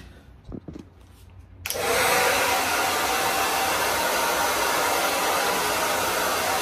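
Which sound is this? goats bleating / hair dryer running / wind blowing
hair dryer running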